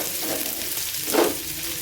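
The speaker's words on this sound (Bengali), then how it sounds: "ফোড়নটা ভাজা হয়েছে, এর উপরে দিয়ে দিয়েছি আদা" Grated ginger frying in hot oil with cumin, fennel and asafoetida for a dal tempering, a steady soft sizzle with a brief louder flare of spatter near the middle and no talk.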